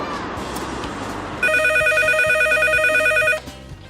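A telephone rings with a steady electronic tone that starts partway through and lasts about two seconds, over a continuous background hum.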